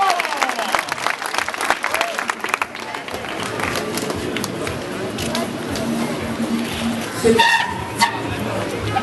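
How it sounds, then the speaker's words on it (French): Audience applause and crowd noise at a motorcycle stunt show finale in Clisson, steady and broad through the whole stretch, mixed with engine roar and skidding, with a commentator's voice over it. "Applaudissements."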